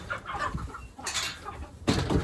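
Chickens on a farm cluck at feeding time, a few short calls and bursts scattered over a busy yard background, with a louder flurry near the end.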